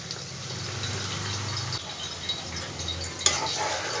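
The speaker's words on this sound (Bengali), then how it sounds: "এসে আবার একটু নাড়াচাড়া করে দিলাম" A spoon stirs potol posto, pointed gourd in poppy seed paste, in a pan, scraping softly and close against a faint sizzle, with one sharper clink near the end.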